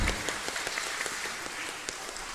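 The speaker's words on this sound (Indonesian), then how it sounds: "Berikan aplaus untuk beliaunya." An audience at a religious affairs ministry ceremony in a regency hall applauds, a fairly faint, steady patter of many hands clapping that fades slightly over a couple of seconds.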